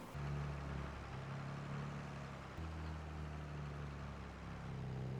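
A John Deere 4230 tractor engine runs steadily at idle on a corn harvest, a continuous low diesel rumble with a brief dip partway, close and alone with no talk.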